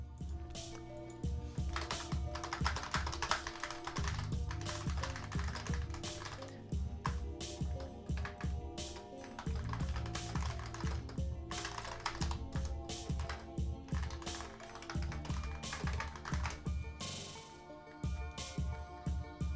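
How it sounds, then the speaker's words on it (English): Steady, fast typing on a computer keyboard during a game stream, with dense runs of close clicks and clacks that pause briefly now and then. "Sorry for the keyboard ASMR."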